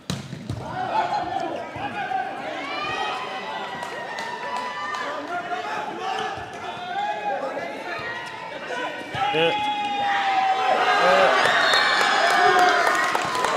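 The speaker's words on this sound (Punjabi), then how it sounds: "ਕਿਉਂਕਿ ਵੇਖੋ ਤਾੜੀਆਂ ਵੱਜਦੀਆਂ ਤੇ ਵੇਖੋ ਰੌਲਾ ਪੈਂਦਾ ਹੋਇਆ" Indoor crowd at the final of a 2024 volleyball tournament clapping and shouting, a dense, steady roar of many voices with scattered claps that swells louder toward the end, people talking throughout.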